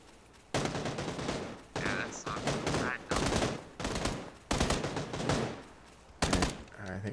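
Bursts of Tommy gun fire from a battle royale video game, several separate loud volleys of rapid shots in a broken rhythm, heard up close with no talking over them.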